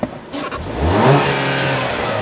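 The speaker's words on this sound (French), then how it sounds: "Ça fait quand même de bonnes accélérations pour un véhicule de ce type-là." A 2015 Ram Promaster City minibus engine pulling away after a short click, the motor's hum rising steadily in pitch as it accelerates, close and moderately loud, heard alone.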